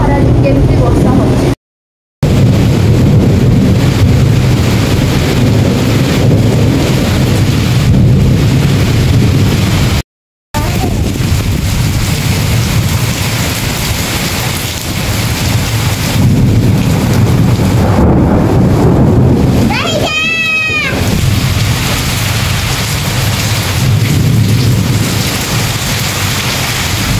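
Heavy rain pours steadily outside with gusty wind, a dense continuous wash that stays loud throughout; a voice talks over it, and a brief sweeping tone rises partway through.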